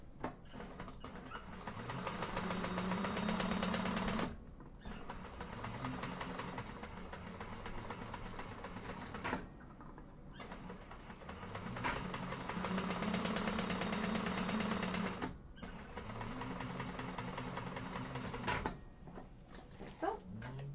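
A sewing machine stitches across the bottom of a Hollyhock hobo bag at an 1/8-inch seam, humming in long steady runs with brief stops between them, at a moderate level close by.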